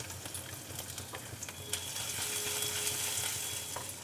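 Grated ginger frying in oil with cardamom and cinnamon pieces for a potato dum dish, a dense close sizzle with light crackles and small stirring scrapes, steady and unbroken, no talking.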